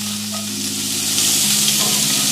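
Asparagus coated with lemon pepper, salt and black pepper frying in a pot, a loud, steady sizzle with a continuous hiss and occasional stirring.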